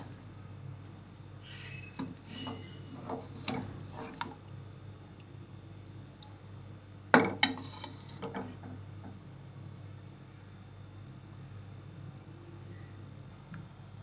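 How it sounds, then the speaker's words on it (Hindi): Nihari ladled out onto a serving dish, with soft scrapes, a few clinks of spoon against dish and one sharper knock midway, then quieter handling; no talking. "नहारी को डिश आउट करते हैं।"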